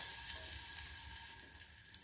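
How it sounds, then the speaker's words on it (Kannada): Chopped onions dropped into hot oil for sambar, giving a faint, steady sizzle with a few small crackles and a low hum in the background. "ಈಗ ಇನ್ನೊಂದು ಸ್ವಲ್ಪ ಎಣ್ಣೆ ಹಾಕಿ, ಅದರಲ್ಲಿ ಹೆರಚಿದ ಈರುಳ್ಳಿ ಹಾಕಿ"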